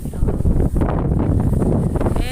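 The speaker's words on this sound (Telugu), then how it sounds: "ఊరే గాలి వీస్తుంది" Wind blows through a village and buffets the microphone in rough, roaring gusts that rise and fall, with some faint background sound mixed in.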